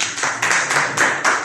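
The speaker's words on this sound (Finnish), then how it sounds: "Annetaan aplodit." A church congregation claps at a Sunday service in brief bursts of applause, a few seconds long with short lulls between surges, close and fairly loud.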